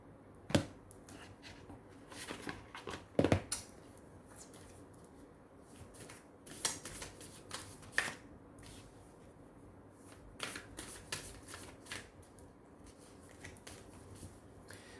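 Tarot cards being shuffled in repeated soft riffles and slaps, close and fairly quiet, with a few sharper snaps and taps between bursts and no talking over them.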